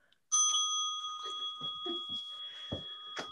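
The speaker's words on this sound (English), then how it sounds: "I have to ring this bell." A single bell rung in a classroom gives one bright strike, then a long steady ring that fades slowly while soft handling noises and faint movement go on beneath it.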